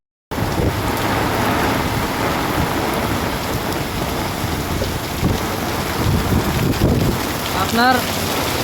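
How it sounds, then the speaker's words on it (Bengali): Heavy rain pours down in Chittagong in a dense, continuous downpour, loud and close, with no one speaking. "বৃষ্টি কিন্তু একটু থেমে থেমে আরো জোরে জোরে নামতেছে"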